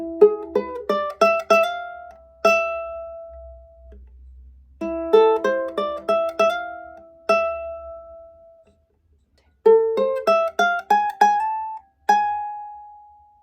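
A plucked ukulele plays the horn-part riff from a song: quick bright note runs in three short bursts, each ending on a sustained ringing note, with brief pauses between phrases.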